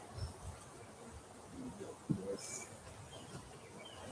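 Honey bees hum around a small new hive during installation, a soft continuous buzz close by with occasional louder passes and handling clatter.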